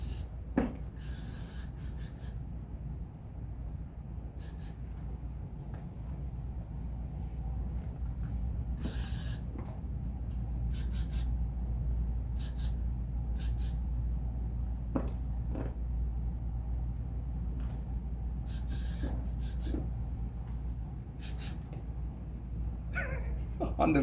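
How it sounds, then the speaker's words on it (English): Hair spray hisses in short, sharp bursts to finish a man's haircut at a barber's chair, repeated spritzes spaced irregularly over a low steady room hum, with talk around them. "Just finish it with spray."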